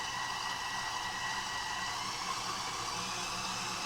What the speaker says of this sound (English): I'm going to increase the whisking